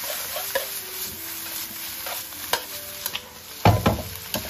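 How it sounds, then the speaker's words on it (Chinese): Shredded pork stir-fried in a wok: intermittent scraping and clanking strokes with a sharp louder toss near the end over a low sizzle, close by with no voices. "我们再把肉丝给它倒进来，再次快速给它翻炒均匀"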